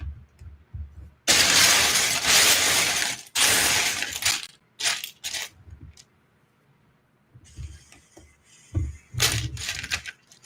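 Loud bursts of plastic bricks rattling and clattering in bursts, separated by quieter pauses, close by with no talking.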